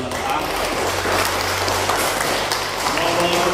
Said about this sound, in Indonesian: Kita tepuk tangan untuk 13A